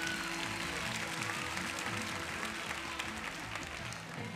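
A circus crowd claps for a pair of clown performers, a dense, steady wash of applause filling the space, with music or crowd noise blended underneath.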